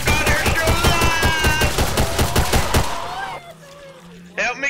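Video game gunfire rattles off as a rapid, evenly spaced string of loud shots for about three seconds, then stops, leaving quieter game sounds and a brief voice near the end.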